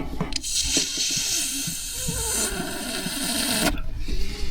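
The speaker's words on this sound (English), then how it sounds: "You can hear the water running out of the water pump." Water runs and hisses out of a van's water pump, opened tap and power off, a steady rushing stream broken by a few gurgles and short bursts at the start and near the end.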